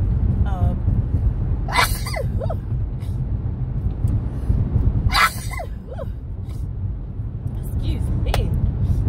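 Two sharp, breathy sneezes burst out a few seconds apart over a low, continuous rumble, with a woman's speech around them.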